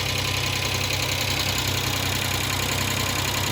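Suzuki engine running steadily after a jump start from a dead battery, with oil smoking off the engine block; an even, close idling rumble with a slight knock throughout and no voices.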